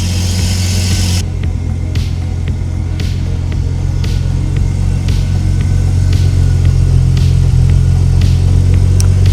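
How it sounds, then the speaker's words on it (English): A BMW S52 engine idles steadily and close by, a smooth low drone with a faint, regular ticking on top, no talking. "Damn, it's idling really good"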